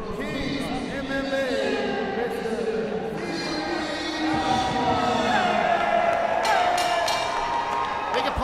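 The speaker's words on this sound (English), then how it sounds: "Big applause for Tapia." An MMA crowd at a FightersRep 7 fight night claps and cheers for fighter Zimri Tapia, a broad roar of applause filling the arena while a ring announcer's amplified voice carries over it.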